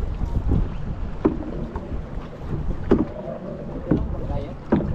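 A small boat moving on Taal Lake, with low rumbling wash, occasional knocks and some wind buffeting, no voices.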